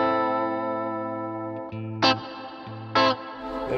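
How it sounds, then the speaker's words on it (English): A Stratocaster-style guitar played through a Neunaber Seraphim pedal on its regular reverb setting rings out sustained chords with a washed, lingering tail, interrupted by two brief bright plucks or switch hits. "There's the regular reverb."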